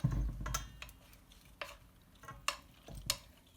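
Penne pasta tossed into a three-cheese mixture, with a few distinct clattering knocks of spoon against dish between softer stirring and rustling, close and alone.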